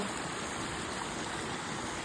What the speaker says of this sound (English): it's like a perfect fall. It's like a really big, it's a really small waterfall.